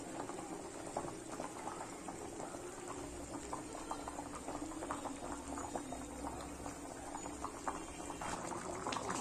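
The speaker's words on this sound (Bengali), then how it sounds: "মাংসটা কীভাবে বয়েল হচ্ছে দেখুন বন্ধুরা, মোটামুটি ভালোই বয়েল হচ্ছে" Chicken curry bubbles at a rolling boil in a pot, a dense, continuous, even burble of liquid heard close with no talking.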